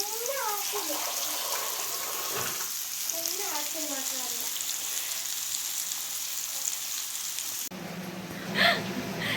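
Masala-coated fish sizzles steadily in a pan, a constant hiss of frying throughout, with a voice talking over it in places and a brief shift in tone near the end.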